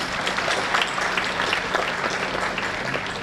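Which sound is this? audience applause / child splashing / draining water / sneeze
audience applause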